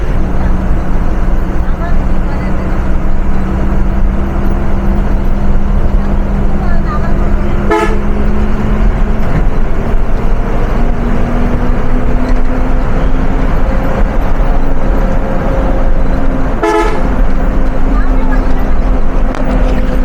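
Steady road and engine rumble inside a moving bus travelling from Rajshahi to Natore, with a few sharp horn toots cutting through and voices talking underneath.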